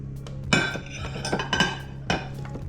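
Finely chopped onions scattered into a casserole dish, a few sharp clinks and light taps against the dish spaced over a couple of seconds, close and clear with no talking.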